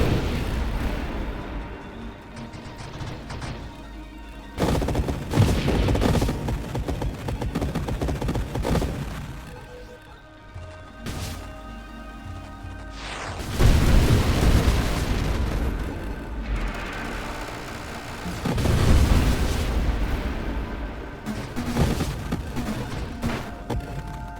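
Ability fire in an action video game, heavy booming blasts and explosive bursts recurring in waves every few seconds over a dense, continuous game soundscape, loud throughout with no talk.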